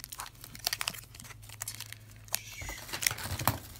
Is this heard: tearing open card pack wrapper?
yes